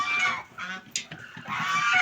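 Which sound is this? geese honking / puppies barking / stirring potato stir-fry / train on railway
geese honking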